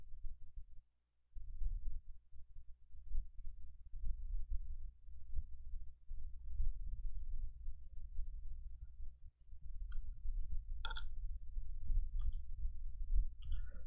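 Hands work a keyboard right in front of a microphone, producing a steady stream of dull, close thumps and bumps, with a few sharper clicks near the end.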